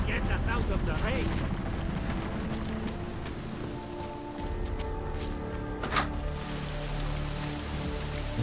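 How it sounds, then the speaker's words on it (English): Steady video-game rain hisses and patters throughout, layered with tonal in-game sounds and a sharp impact around the middle. "Get us out of the rain."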